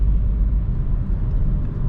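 Interior view of a VW Polo 1.0 TSI DSG with 95 hp and 50,000 km taking a corner: a loud, steady low rumble of engine and road noise fills the cabin, continuous and close with no talk.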